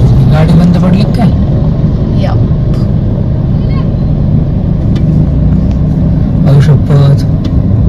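A car rolls through a flooded road with water up to half the tyre, a loud, continuous engine rumble mixed with sloshing water, while people talk over it.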